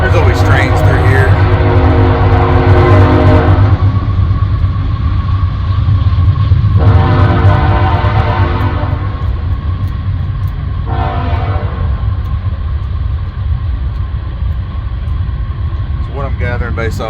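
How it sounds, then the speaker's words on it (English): Train passing close by with a loud continuous rolling rumble and clatter, a horn sounding in several long blasts. "There's always trains through here."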